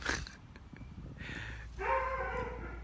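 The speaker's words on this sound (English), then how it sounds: "It's my neighbor's dog." Neighbor's dog barks and whines at a distance outdoors in a few short bursts, fairly faint, with a louder drawn-out yelp near the end.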